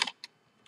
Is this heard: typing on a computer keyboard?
yes